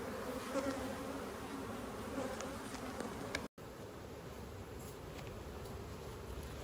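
Honey bees swarm up in a dense, steady buzzing drone after hive frames are shaken, the hum hanging close and even with a brief dropout midway.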